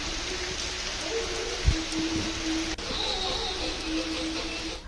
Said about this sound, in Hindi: एक हफ्ते से इलाके में धूप ही नहीं निकली है, सिर्फ बारिश हवा, यही सिलसिला चल रहा है